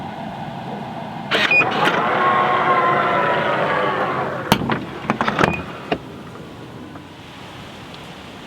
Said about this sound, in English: Tesla Offer Frunk close sound.